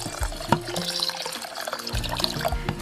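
Water poured into a pot of rinsed rice in a home kitchen, a close trickling splash with a few clunks and knocks from the pot, moderate in level.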